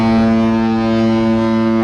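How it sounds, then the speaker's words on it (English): A deep, steady cruise ship horn blares loud and sustained in port at Nassau, a single continuous blast with rich low tones. "Why is our ship horn honking?"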